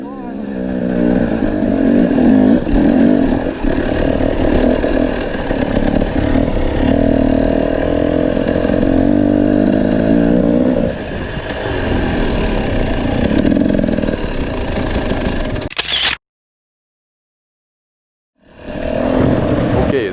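A dirt bike engine labors up a long desert hill climb, a loud sustained motorcycle drone with shifting revs that drops out abruptly near the end before returning.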